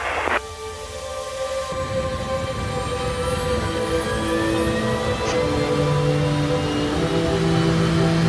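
An aircraft takes off from Mojave runway 30 on a space tourism flight, its engine a loud steady roar with rising whining tones that build and hold as it accelerates, heard from close by without speech.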